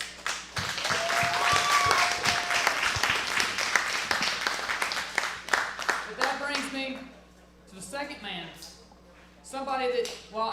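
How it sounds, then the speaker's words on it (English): A wrestling crowd at a ProSouth Wrestling appreciation night applauds Adam Roberts, with dense clapping filling the first six seconds before thinning into someone talking over scattered claps. "I'd like to applaud Adam Roberts"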